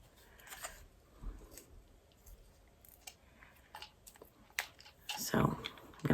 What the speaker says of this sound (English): Let's get my big fat fingers in here and pull out this little tiny piece of cotton.